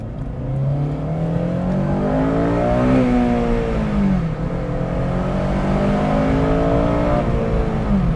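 An 8th gen Honda Civic Si with its VTEC engine revs hard and close, pitch sweeping up and down through several rising and falling pulls with a steady loud drone throughout.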